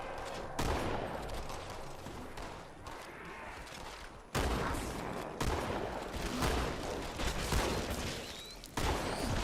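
Rapid bursts of Halo 2 Anniversary gunfire, heavy shotgun blasts and volleys in quick succession, loud and close, with a voice talking faintly underneath.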